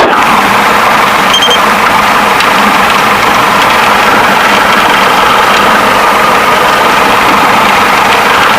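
A Piper PA-28 light aircraft propeller engine drones steadily at idle during warm-up, loud and close, a constant rumbling hum with no break.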